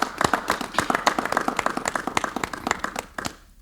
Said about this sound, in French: Est-ce que vous pouvez quand même applaudir pour ces grands messieurs?